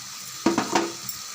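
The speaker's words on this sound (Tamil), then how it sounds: "கொஞ்சம் நல்லா வதங்கட்டும்" Ground tomato paste fries in a pan for an egg gravy, a soft continuous sizzle with a few brief clinks and scrapes of a utensil against the pan in the middle.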